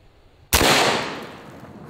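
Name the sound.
72 caliber Zeus air rifle shot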